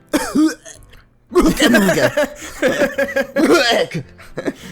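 A person clears their throat and coughs in short raspy bursts, mixed with bits of chuckling, loud and close.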